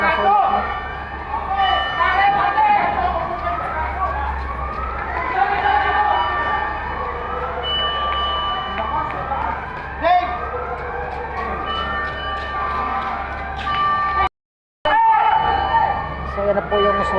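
A fire truck siren wails continuously at a large fire in Caloocan, rising and falling through a steady roar of engines and crowd noise.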